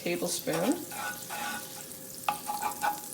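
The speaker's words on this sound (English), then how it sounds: "to it we're going to add a pat of butter, about less than a tablespoon" A pat of butter sizzles softly in a little oil in a pan, quiet and even, with a brief voice at the start and a few faint stirring clicks.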